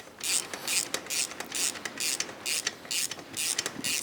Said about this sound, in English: Get the nut on there. Hold it with our 17mm wrench, 16mm socket.